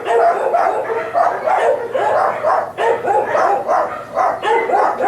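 Several dogs barking in boarding and rescue kennels, with repeated overlapping barks and yips in an irregular rhythm, fairly loud and close, with no talk over them.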